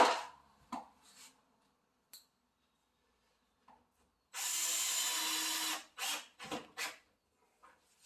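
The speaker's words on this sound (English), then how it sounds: "you can feel it on the drill when you're using it" A power drill driving pocket screws whirs in one steady burst of about a second and a half, surrounded by quiet clicks and handling noises.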